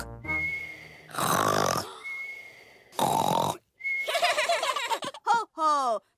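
A voice imitates a cartoon pig snoring in Peppa Pig, with whistling, wheezy inhales and snorting exhales repeated several times, loud and close.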